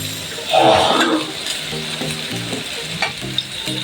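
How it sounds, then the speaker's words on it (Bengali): Half-boiled rice is tipped into a hot frying pan for fried rice, setting off a sudden burst of sizzling that settles into steady frying with stirring and scraping, and a voice speaking underneath. "তো চালটা এখানে অ্যাড করে দিচ্ছি"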